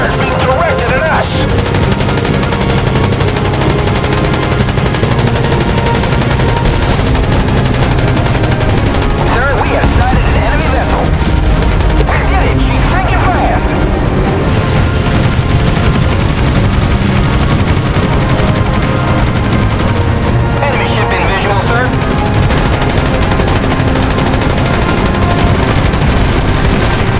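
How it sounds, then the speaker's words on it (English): Enemy anti-aircraft fire rattles steadily at attacking carrier aircraft in a naval battle game, with loud, dense machine-gun bursts and heavier booms running without pause for nearly half a minute. "Enemy fire is being directed at us."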